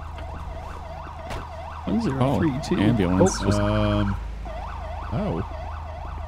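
Wailing ambulance siren from the FivePD police game, sweeping up and down steadily throughout, with a short spoken line and some louder game sounds layered over it midway.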